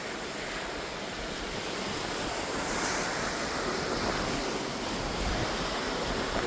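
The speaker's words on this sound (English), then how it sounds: "But this is literally the ocean at nighttime." Atlantic Ocean waves at night, heard from a cruise ship, form a continuous, dense rushing surf with wind across the microphone, steady and fairly loud throughout with no talking.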